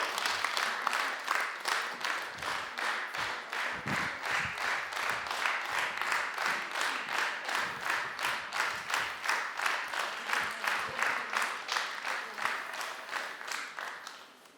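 An audience at an adult education award ceremony claps steadily and warmly for about fourteen seconds, an even run of applause that tapers off at the end.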